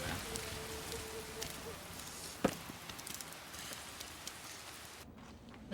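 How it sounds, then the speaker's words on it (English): Rain falls as a faint, steady hiss and patter, with one sharp knock partway through. "It's raining, man."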